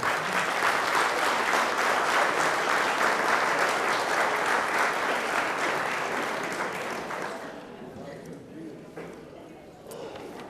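An audience at a town meeting in Enfield, Connecticut applauds loudly and steadily for about seven seconds. The clapping then fades into a quiet room murmur.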